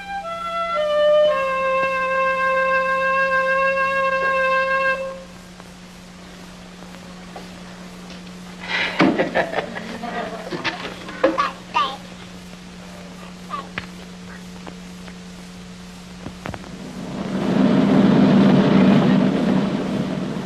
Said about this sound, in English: the war begins at dawn, when the engines start turning at Vientiane Airport